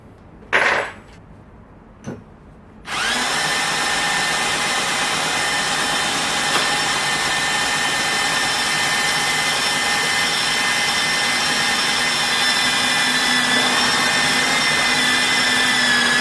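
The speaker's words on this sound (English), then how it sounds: "I will change it to the 22mm Holesaw." A Parkside carbide bi-metal 22mm hole saw on a power drill cuts into PVC plastic, starting with a few short bursts and then settling into a loud, continuous, steady high whine and grind up close.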